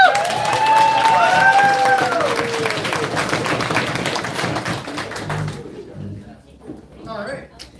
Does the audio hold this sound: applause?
yes